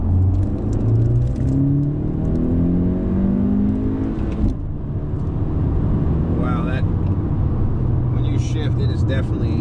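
2017 Honda Civic EX-T 1.5T with a Ktuner V2 tune pulling hard from 50 to 70, engine note climbing steadily through the rev range, dropping sharply at a gear shift, then rising again, with cabin road noise underneath.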